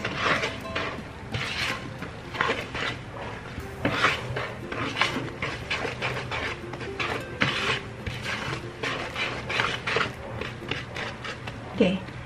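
Spoon scraping and clinking against a mixing bowl while stirring red velvet chocolate chip cookie dough with brown sugar and vanilla, a steady run of close, busy scrapes and taps with a voice speaking now and then.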